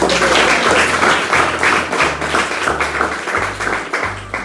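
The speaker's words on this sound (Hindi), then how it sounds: "हाँ, तालियां बनती हैं।" Loud, sustained applause from a crowd at a celebration for a student ranked AIR 92, with dense clapping throughout and no talk.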